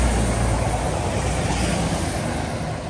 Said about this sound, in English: There's a train coming. Is it a new one? Sounds like it is.